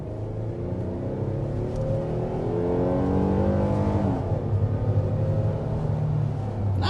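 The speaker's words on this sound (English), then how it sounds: "Just like that, you're up to 60 miles an hour in the 2023 Kia Telluride" A 2023 Kia Telluride with a 3.3-liter turbo inline six accelerates hard to 60 mph, its engine drone climbing steadily in pitch and loudness through the upshifts, heard from inside the cabin.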